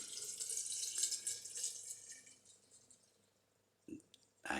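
Spirit liquor for homemade blackcurrant liqueur trickles and splashes into a jar of currants, a soft close pour that tapers off, followed by a couple of brief clinks and knocks.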